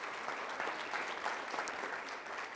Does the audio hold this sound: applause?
yes